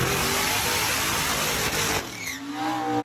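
A methanol-fuelled big block Chevrolet drag car engine roars loud and steady for about two seconds at a strip, then the sound drops back to a lower rumble before cutting off abruptly.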